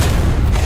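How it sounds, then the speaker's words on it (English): The M1A2 SEP Tusk tank's main caliber gun fires in War Thunder, a single loud, heavy, meaty boom whose low rumble fills the short moment. "on something like the M1A2 SEP Tusk, you can hear the gunshot and see the difference with it"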